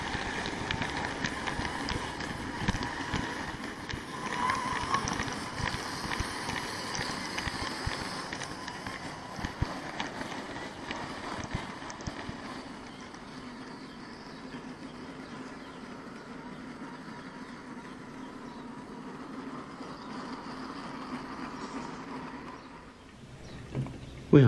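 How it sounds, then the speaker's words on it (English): An OO gauge Great Western pannier tank engine by Replica runs on a model railway, giving a steady low mechanical rumble and rattle of wheels on track throughout, fading toward the end. "a small tank engine, this time a Great Western pannier by replica, is making up the train"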